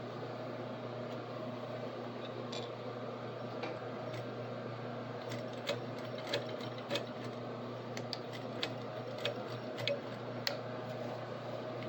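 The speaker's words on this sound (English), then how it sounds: "Just fold it back, and we'll top stitch it in place." A sewing machine top stitching a folded-back fabric seam runs steadily throughout, a continuous low mechanical hum with faint ticking clicks, close and moderately quiet, with no talking.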